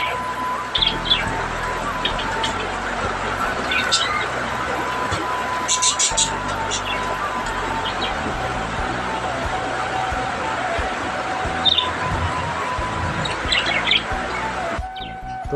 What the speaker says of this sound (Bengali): এবার তোমাদের দেখাবো আমার জাভা পাখি।